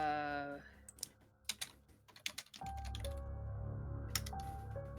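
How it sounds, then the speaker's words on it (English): Rapid, uneven bursts of computer keyboard typing, sharp clicks clustered in quick runs, between stretches of background music and voices. "You hear the furious typing."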